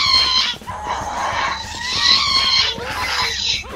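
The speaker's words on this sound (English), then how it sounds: "I'm just hearing crazy screaming sounds." A Minecraft ghast lets out a run of high, wailing screeches and screams, several piercing cries in close succession, loud and near, with little else beneath.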